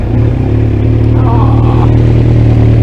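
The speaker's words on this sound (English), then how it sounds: "If I just start it up for you, you can have a little listen of that exhaust." Kawasaki Z900 motorcycle starting up, its exhaust settling into a loud, steady, deep idle burble close by, with a brief rise in pitch partway through.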